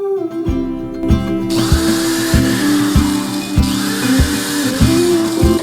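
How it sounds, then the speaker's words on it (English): A power drill drilling into a wall whirs steadily and loudly, its motor pulsing in a regular rhythm close by, with no talking. "I will be marking it where I need to drill a hole."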